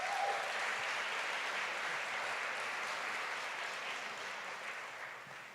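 An audience at an awards function applauds the award recipients with steady, moderately distant clapping that fades slightly toward the end.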